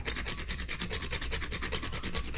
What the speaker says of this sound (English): We're gonna grate like another half a teaspoon in here. Freshly grated nutmeg.